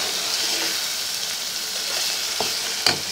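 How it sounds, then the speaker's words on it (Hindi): Steady sizzling and crackling of onions frying in a hot pan over a high flame, with a couple of brief scraping stirs near the end. "फास्ट फ्लेम पर हमने इसको फ्राई किया है"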